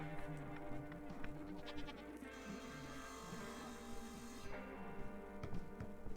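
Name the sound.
goat bleating in the video game Sally Face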